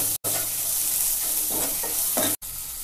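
Onions with salt fry in a pan under a constant close sizzle, with several soft scraping stirs of a spoon across the pan in the second half and no talking.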